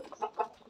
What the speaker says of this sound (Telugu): కోళ్ళు అరుస్తూనే ఉంటాయి పొద్దాకల.